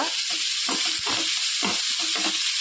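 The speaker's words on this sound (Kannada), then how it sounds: "ಟೊಮೆಟೊ ಎಲ್ಲ ಮೆಲ್ಟ್ ಆಗೋ ತನಕ ಫ್ರೈ ಮಾಡ್ಕೊಳ್ಳುವ" Chopped tomatoes fry in a pan for a mushroom sukka, giving a loud, continuous sizzling hiss, with soft stirring scrapes pulsing through it.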